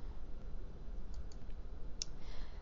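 A few faint computer mouse clicks come over a quiet hiss while working in Microsoft Excel, a pair of light taps followed by a single sharper click, with no talking.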